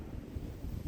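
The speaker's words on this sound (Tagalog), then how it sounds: "Mahangin." Steady outdoor wind gusts rumble across an open tulip field in cold winter-like weather, a low buffeting roar close on the microphone with no voices.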